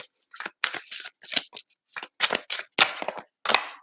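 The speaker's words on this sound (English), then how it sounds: "I don't know why I'm shuffling so much" A deck of tarot cards is shuffled by hand in a quick, irregular series of crisp riffling slaps and flicks, close and clear, with no talking.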